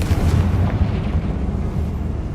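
Confringo fire-blast spell cast in the Hogwarts Legacy video game: a dense, booming explosive burst with rumbling low end that stays loud and sustained through the moment, no talk over it.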